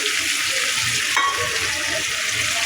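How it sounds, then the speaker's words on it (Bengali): Shrimp fry with turmeric and cumin in a tomato masala, giving a steady close sizzle with stirring scrapes throughout and no talking. "আর দেবো হলুদ জিরা দিয়ে চিংড়ি মাছটা মশলার সাথে ভালোভাবে ভেজে নেব"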